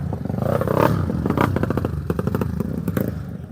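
An off-road motorcycle stuck on a dirt track revs hard, its engine rising and falling in loud, close bursts with clattering and knocking underneath, no talk.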